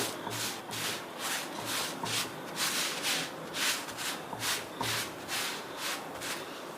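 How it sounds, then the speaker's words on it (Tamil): A cloth pressing and rubbing a flatbread on a hot pan for a weight-loss roti, close rhythmic shuffling swishes repeating roughly every half second, soft and steady with no talk. "இப்போ துணியை வச்சு லைட்டாக அமுக்கி விடுவோம்"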